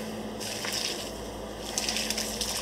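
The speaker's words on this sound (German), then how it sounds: "geben den Bulgur hinein und haben ja nun den Fond im Verhältnis 2:1 und gießen damit den Bulgur an" Stock poured over bulgur in a bowl, a soft steady splashing and trickling of liquid, close and fairly quiet, running continuously with slight surges and no voices.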